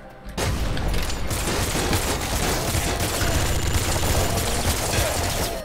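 A splinter pistol fires in rapid, continuous bursts in the top-down shooter Nuclear Throne, dense and loud across the whole stretch after a brief quiet start.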